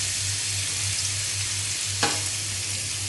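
Onions are sautéed in oil in a pan, producing a steady close hiss with a faint low hum underneath and a single soft tap of a utensil partway through.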